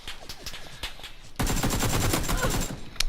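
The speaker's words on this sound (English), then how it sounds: "Get plenty of bullets into him with my AK" Rapid automatic AK rifle fire in the PUBG video game, a fast string of shots that grows louder partway through and continues for a few seconds, with no talk over it.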